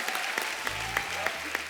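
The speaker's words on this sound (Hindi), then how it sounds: "जोरदार तालियां हो जाए" A studio audience at a comedy talk show claps to welcome the World Cup-winning Indian women's cricket team, an uneven ripple of hands close by, with a voice briefly speaking underneath.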